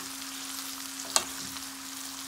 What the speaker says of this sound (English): We're gonna go in with our okra now in the pot